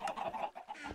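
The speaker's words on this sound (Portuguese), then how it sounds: "Pega umas galinhas aí" A quick burst of soft chicken clucks from Minecraft, a few short calls in under a second, faint and alone.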